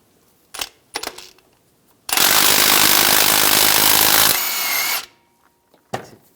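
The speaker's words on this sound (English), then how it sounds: "We're going to take this crank bolt out. We're going to use a 27mm socket." A power tool spins a 27mm socket to break loose the crankshaft bolt on a 2011-2018 Ram 1500, one long loud whirring burst of nearly three seconds, preceded and followed by scattered metallic clanks and clicks.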